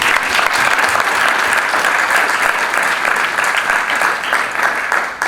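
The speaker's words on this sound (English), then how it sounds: "So can we first get a quick round of applause for all of them." A graduation party crowd applauds its organisers with a dense, even burst of clapping that holds loud and steady from start to finish, with no talking over it.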